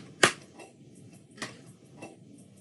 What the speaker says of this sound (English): I'm only going to clap them.